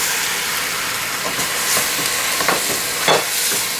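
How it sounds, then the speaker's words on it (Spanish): Tripe (mondongo) hits a pot for cau cau and is stirred, giving a steady close sizzle with scattered scraping clacks of the spoon throughout and no talking. "Entonces agregamos nuestro mondongo."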